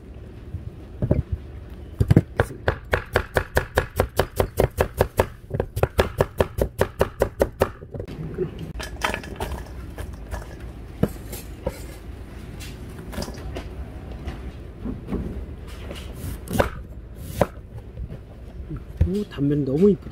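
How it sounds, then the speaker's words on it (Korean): A knife slices kohlrabi into thin julienne strips on a cutting board, giving a fast run of crisp, evenly spaced chops that gives way to sparser cuts, with a voice talking over parts of it. "이번에는 이제 한번 얇게 해서 그렇게 얇게 한번 채를 썰어 갖고 한번 해보도록 하겠습니다"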